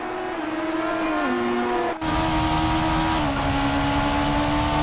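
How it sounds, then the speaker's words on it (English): On-board race car engine during the Spanish Grand Prix, a loud, steady high-revving whine filling the cockpit, with a brief dip and pitch shifts as gears change. "On board with Kenneth Cambridge, who is trying to defend his 4th position but has no luck against Raj"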